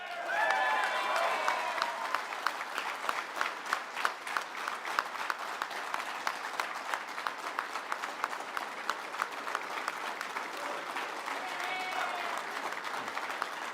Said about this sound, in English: Be a lot of applause tonight interrupting the Premier as he speaks.